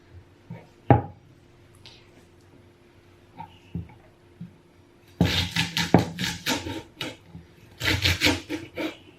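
A knife slices through fresh celery stalks on a cutting board, a few isolated chops at first, then bursts of rapid, crisp cuts, close and loud with no talking.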